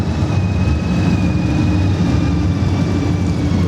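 Honda Goldwing GL1800 touring motorcycle idling steadily after starting, a smooth continuous low engine hum with a faint high whine, close and uninterrupted.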